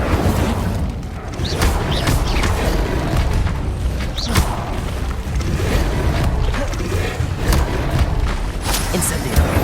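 Incendio fire spell being cast in Hogwarts Legacy, with repeated whooshing, booming magical bursts and crackling impacts layered over continuous battle noise and game sound.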